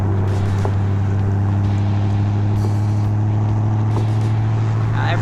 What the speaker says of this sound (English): we're going first through third from an almost stop